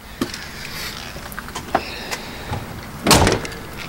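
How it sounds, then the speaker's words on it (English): A car door on an older Ford Explorer clicks and swings open amid faint handling noises, followed by a louder broadband thunk near the end. "unlock it, open the door"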